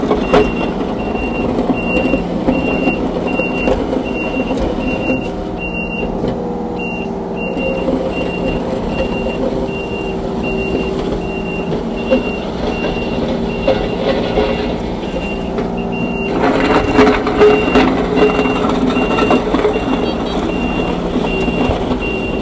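A 2021 Kubota KX033-4 compact excavator works its floating angle blade, a loud steady diesel drone with repeating reversing beeps over it, and a surge of engine and hydraulic noise near the end.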